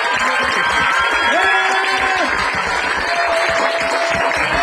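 Warm applause rises for the composer at a children's musical and dance performance with a children's choir. The steady clapping crowd fills the room throughout, with faint tonal sounds underneath.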